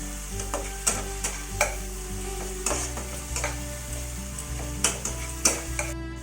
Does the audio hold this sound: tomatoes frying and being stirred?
yes